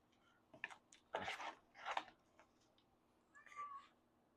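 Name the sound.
pet cat meowing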